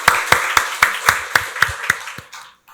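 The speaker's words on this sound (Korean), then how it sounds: "박수로 하나님께 영광 돌리겠습니다." A church congregation at an Easter Sunday worship service claps in unison, about ten sharp, evenly spaced beats in a steady rhythm that fade out at the end.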